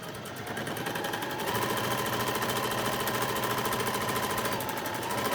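Sewing machine running steadily to attach contrast trim along doll pyjama trouser legs, a continuous close whirring drone with rapid needle rhythm throughout, swelling slightly louder after the first second and holding even to the end.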